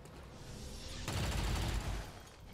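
Gunfire in the video game XCOM 2, a dense burst of rapid shots erupting after a second of muffled ambience, loud for about a second and then fading into a lingering rumble.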